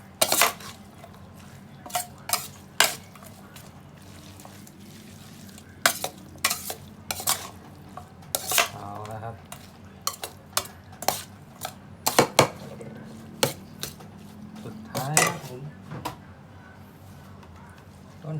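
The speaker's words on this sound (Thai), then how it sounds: "คลุกเข้าผักให้เข้ากันอีกทีนะครับผม" Instant noodle salad is tossed with tomato and vegetables in a bowl, with scattered clinks of utensils against the dish and soft wet stirring between them, close and irregular, and no talking.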